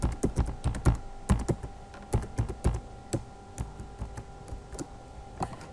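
Fingers typing a new password on a computer keyboard, a quick run of close, crisp key clicks in uneven bursts that slow toward the end, with no voices.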